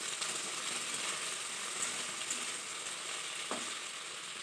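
Flat beans sizzle in hot oil in a pan, a steady close frying hiss that holds throughout, with a single light scrape of stirring partway through.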